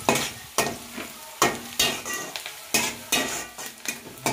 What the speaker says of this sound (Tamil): இப்போ ஆனியனை நல்லா வதக்கிட்டுருக்கோம்